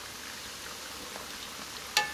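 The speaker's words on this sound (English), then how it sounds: "we're just gonna wait and finish frying these up" Cheese empanadas frying in a pan give a soft, steady sizzle heard close but faint, with a single small clink near the end.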